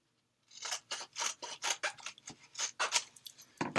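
Scissors cut through mixed media material such as burlap in a quick run of about a dozen rhythmic snips, crisp and close, with no talking.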